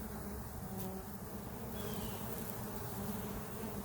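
Honey bees swarm around a beehive entrance on a mild spring day, a dense, steady buzzing hum from many insects close by with no pauses and no talking.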